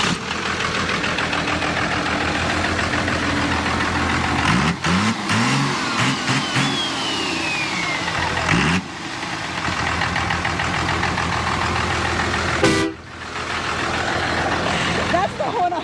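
A car fitted with train wheels at a spring redneck rumble show starts up and runs with a loud, steady engine drone and a few revving surges, with people talking nearby and a horn blast near the end.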